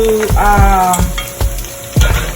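Food fries in hot oil for jollof rice, a steady close sizzle with clinks and scraping of a utensil stirring in the pan.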